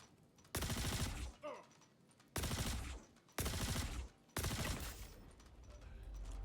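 Automatic weapon fire in the space game Star Citizen, loud and close, coming in four long sustained bursts separated by short pauses, with no talk.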